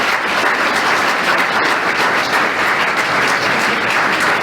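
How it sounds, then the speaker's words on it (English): An audience at a talk on the 2022 US midterms applauds the speakers, a dense, loud, steady round of clapping that fills the room without any speech. "So if one more round of applause for our speakers."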